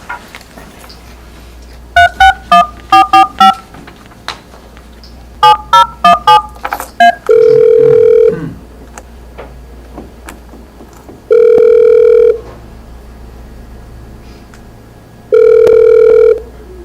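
A desk telephone in a county commissioners court meeting room dials out for a conference call: two quick bursts of keypad tones, followed by three long, evenly spaced ringback tones, close and clear in a quiet room.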